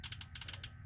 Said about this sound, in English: the injector's clicking.